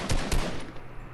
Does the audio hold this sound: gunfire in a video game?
yes